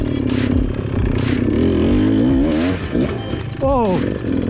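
An enduro motorcycle, a Beta Xtrainer, climbs uphill on a trials-style section, its engine revving and rising in pitch as the rear wheel spins out, close and loud, with a rider talking.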